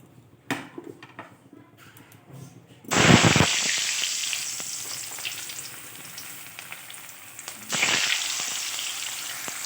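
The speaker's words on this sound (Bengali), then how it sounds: "কড়াইয়ে তেল বসিয়ে দিয়েছি আলুটাকে একটু ভেজে নেব হালকা করে" Loud, crackling sizzle of potatoes frying in hot oil in a wok, starting abruptly and surging again later, after a quieter stretch of clatter at the start.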